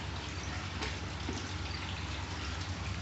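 A removed part from a reptile enclosure setup is rinsed under running tap water, a steady close gush of water lasting the whole moment with no talk over it.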